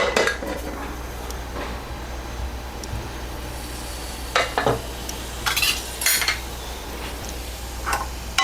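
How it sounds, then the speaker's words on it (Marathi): A pressure cooker holding mixed legume curry is opened, with sharp metallic clanks and scrapes of the lid and pot coming in short bursts over a low steady background, close and clear. "आता कुकर उघडते मी"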